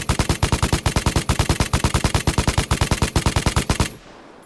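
Light machine gun fire from the video game Vigor, a rapid sustained burst of about two dozen evenly spaced loud shots over roughly four seconds, cut off abruptly with a brief fading tail.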